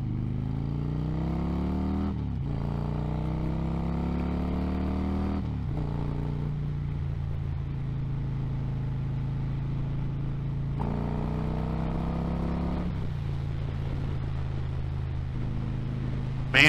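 A Road King motorcycle is ridden, its engine a low steady drone that rises through gears in repeated climbing pulls, with wind rush over the top and no talk.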